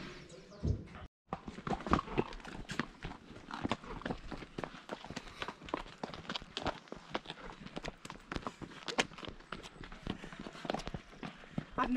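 A horse walks along a trail in a monarch butterfly area in Mexico, its hooves clip-clopping in a continuous uneven rhythm mixed with rustling and movement noise.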